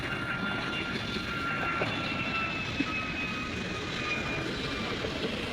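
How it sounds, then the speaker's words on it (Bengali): An airplane landing at an airport, a steady distant engine roar with a thin whine drifting downward in pitch, heard alone at low level without talk. "আচ্ছা, আমরা ল্যান্ডিংটা দেখি"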